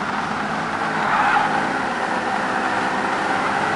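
A touring car slides into the first corner in Toca 2 Touring Cars, its engine droning steadily while tires scrub and squeal in a sustained, loud smear of noise.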